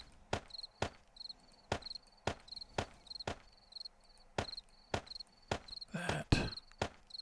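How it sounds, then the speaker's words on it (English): Crickets chirp at dusk in the video game 7 Days to Die, a steady pulsing trill heard under regular sharp thumping steps, with a brief burst of louder noise near the end. "Cricket indicates that it's 6 o'clock."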